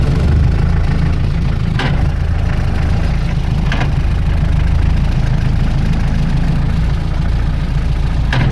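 The engine of a 1990 project car runs loud and close as it drives, a steady low rumble with a few sharp knocks or clunks at intervals, no talking.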